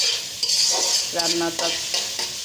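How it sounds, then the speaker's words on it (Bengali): A spice paste is stir-fried in a pan: a loud, near sizzle with a spoon scraping and stirring through the paste in short strokes. "ভালো করে মশলাটা কষাতে হবে"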